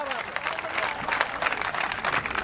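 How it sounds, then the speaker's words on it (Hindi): Audience clapping at a Hindi kavi sammelan poetry gathering, a lively burst of applause from a seated crowd with voices mixed in. "तालियां बजाओ जरा एक बार जोरदार साहब।"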